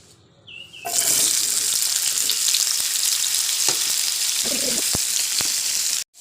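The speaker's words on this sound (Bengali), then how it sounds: "আলুগুলো দিয়ে দেব তেলের মধ্যে" Potatoes dropped into hot oil burst into a loud, dense, continuous sizzle that holds steady, with a few utensil taps, then cuts off abruptly at the end.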